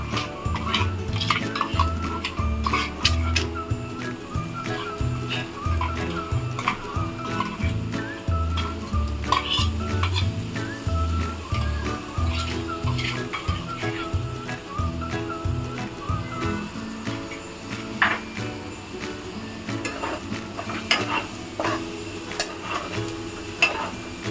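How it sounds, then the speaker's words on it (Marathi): Ground masala paste sizzles and spits in hot oil in a pan for a Maharashtrian chana soyabean dish while it is stirred. A dense, continuous frying crackle runs throughout, with soft scraping strokes, close up and without speech. "तेल सुटूपर्यंत हा मसाला चांगला भाजून घ्या"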